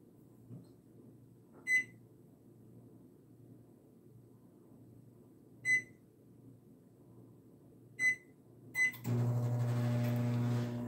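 A microwave oven defrosting a cold slice of meatloaf: several short button beeps spaced a few seconds apart, then the steady hum of the oven starting up, close and loud.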